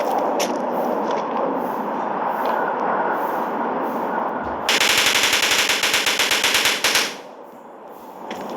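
Video game gunfire: a long rapid burst of automatic shots, loud and close, rattling in a fast even rhythm for about two seconds and then stopping abruptly over the game's background rumble.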